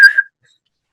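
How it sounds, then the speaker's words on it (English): A Cornwall Constabulary police whistle gives a single short, loud shrill blast that cuts off abruptly, followed by silence. "I took out of my bag my Cornwall Constabulary police whistle"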